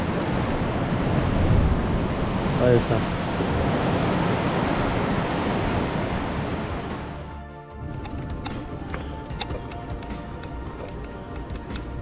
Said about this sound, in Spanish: el mar está bravo y se la ha comido